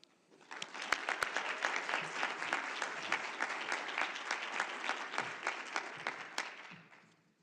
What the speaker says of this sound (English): I'm asking for a huge round of applause for these students